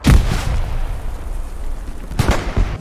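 Grenade explosions in the Hell Let Loose war game at night in Foy: a loud, close boom at the start, a rumbling lull, then a second burst of heavy blasts near the end.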